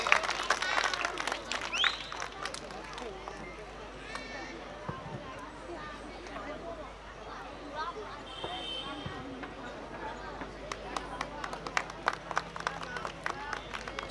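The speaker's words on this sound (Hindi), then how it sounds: "ठीक है ताली हो जोरदार ताली" An audience at a stage evening of the Aamar Utsav 2024 festival in Burla claps in scattered, irregular bursts of sharp hand claps, fairly faint and under someone talking over a PA with crowd murmur.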